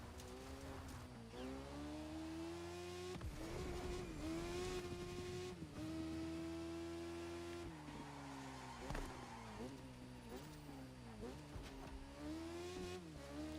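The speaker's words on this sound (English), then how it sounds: "it keeps like making the sound like I'm full throttle and then going back down." Car engine in The Crew Motorfest video game revving hard toward full throttle, then dropping back and climbing again in repeated surges, loud and close, with faint tire noise.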